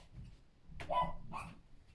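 Two dogs indoors bark and yip at each other in a couple of quick, faint bursts, fairly distant.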